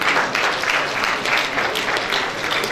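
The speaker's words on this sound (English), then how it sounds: "All the women in the house, please clap for her." Sustained applause from an audience at a Nigerian inauguration ceremony, clapping for a woman officeholder; dense, steady clapping fills the whole stretch at close range without speech.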